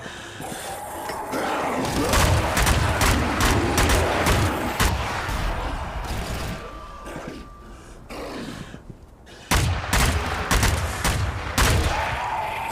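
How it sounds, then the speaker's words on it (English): Zombies fire guns back in the Zombie Army game, with dense crackling gunfire in repeated bursts and sharp close shots over a continuous battle din, broken by a brief lull before heavy firing resumes. "Now we got zombies shooting back at you."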